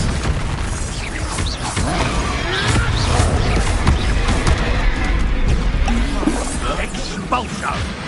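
Expelliarmus being cast in the video game Hogwarts Legacy, with crashing, whooshing magical impacts and mechanical clatter in a dense, loud battle mix, and a voice speaking over the effects.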